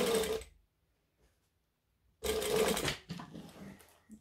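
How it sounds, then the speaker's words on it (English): A sewing machine stitches a backpack lining in two short bursts, a half-second run, a pause of silence, then a longer close, steady whirring run that tapers off with a few small mechanical taps. "I'm going to sew to there."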